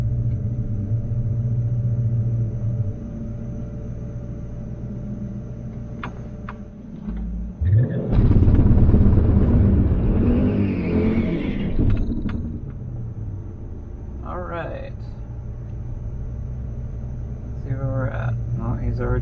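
A drag racing car launches hard at the drag strip in a sudden loud rumbling burst that swells and then fades away, after a quieter stretch of idling engine and someone talking.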